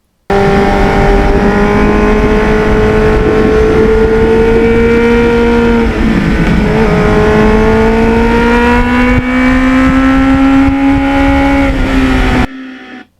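A restored 1989 Kawasaki Ninja 750R motorcycle runs loud and close with a steady, tonal engine note. Its pitch rises slowly, dips briefly midway, then climbs again before cutting off abruptly at the end.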